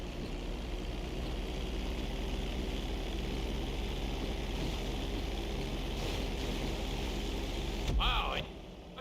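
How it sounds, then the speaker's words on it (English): A propeller plane in a video game drones steadily through an emergency landing on a bridge, its engine hum constant and fairly close, with a brief sharp whine near the end and a voice speaking over it. "You're going to practice an emergency landing on that bridge, straight ahead."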